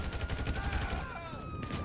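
Fast, repeated gunfire in the video game GTA V rattles in a rapid rhythmic stream of sharp shots, fairly loud and close, with a brief ringing tone layered over the bursts.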